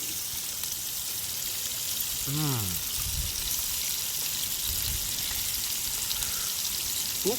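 Auri fish frying in a pan on a riverside at night, a steady outdoor sizzle with a soft watery crackle underneath, while a person speaks briefly partway through.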